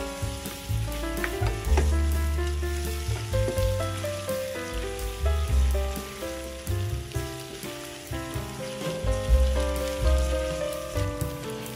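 Tomato paste sautéing with marinated pork ribs makes a continuous sizzle and frying crackle with occasional stirring, close and steady, under a layer of background music with no talk.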